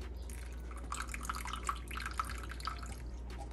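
Water from a small cup is poured into melting chocolate for a drip cake, a faint, quiet trickle with tiny droplet splashes heard close up over a steady low hum.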